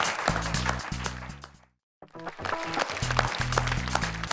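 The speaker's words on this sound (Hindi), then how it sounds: "देखिए, आप भी मेरे साथ तालियां बजा रहे हैं" An audience claps along in rhythm at a live shayari show, the steady claps blending into music, with a brief drop to near silence midway before the clapping resumes.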